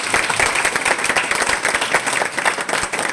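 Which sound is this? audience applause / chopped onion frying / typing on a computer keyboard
audience applause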